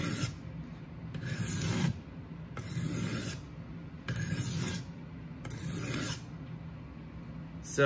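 A knife blade is drawn across the stone of a Work Sharp guided sharpening system in four or five steady rasping strokes, each about a second long with short pauses between, close and with no talking.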